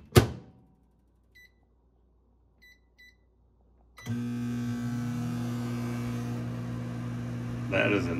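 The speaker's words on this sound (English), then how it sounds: "I'm going to cheat and pop it in the microwave." An old microwave oven hums steadily after a few soft beeps and a thump of the door, its drone running loud and constant until the end.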